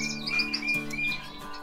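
Young goldfinches flying loose in an aviary chirp continuously in thin, high tweets, several overlapping calls close by over a low steady background hum, with no talk.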